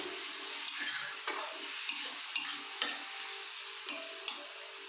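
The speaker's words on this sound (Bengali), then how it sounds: "আমি দেখুন আদাটা ভাজা ভাজা মতো হয়ে এসেছে মানে আদার কাঁচা গন্ধটা কেটে গেছে" Ginger frying in a pan makes a soft, steady sizzle, broken by a regular series of light clicks from stirring about every half second, quiet and alone.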